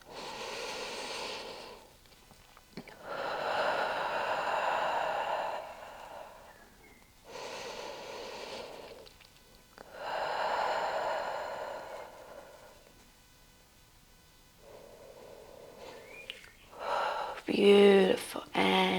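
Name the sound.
deep breathing during yoga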